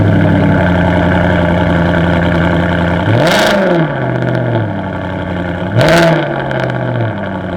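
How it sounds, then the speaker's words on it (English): Cold start of a Maserati with an X-pipe exhaust: a steady engine drone with two sharp, loud revs, near and alone. "Let's get a cold start of the Maserati. It's got an X-pipe"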